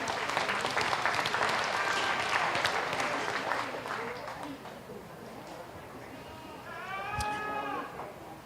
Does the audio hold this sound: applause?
yes